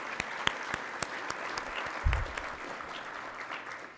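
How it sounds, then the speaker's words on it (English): Audience applause at an annual Martin Luther King Jr. birthday breakfast, a steady wash of clapping from a seated crowd in a hall, moderately loud and sustained for a few seconds before starting to thin out. "So let's give her a round of applause for that."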